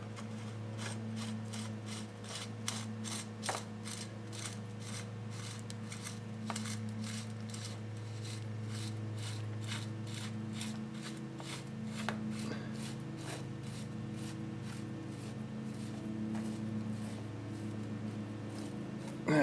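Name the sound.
threaded bicycle headset bearing race being screwed on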